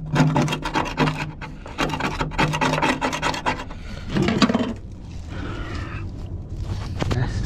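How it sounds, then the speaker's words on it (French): Rusty metal being scraped by hand, with repeated close, loud rasping strokes in an uneven rhythm and short pauses between passes, and no talking. "j'ai commencé à gratter de ce côté-là"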